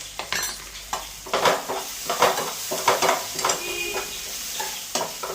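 Spices fry in a pan for chickpea curry in a small village kitchen, a steady sizzle broken by repeated scraping stirs of a spoon against the metal, close and clear, without voices.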